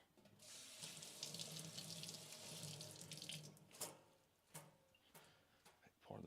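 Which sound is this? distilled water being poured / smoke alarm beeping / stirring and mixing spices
distilled water being poured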